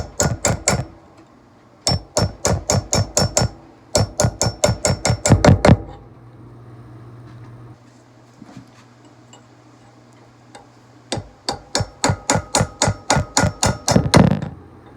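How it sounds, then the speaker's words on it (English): A cold chisel is hammered into a smoothbore barrel to cut slots for barrel tenons, giving sharp, evenly spaced metallic taps in several quick bursts separated by short pauses, close and crisp with no voices. "So we got our little segments tapped out there with our cold chisel."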